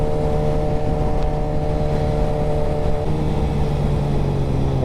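A 1000cc sport bike engine drones steadily and close, its even mechanical tone holding without a break as it engine-brakes.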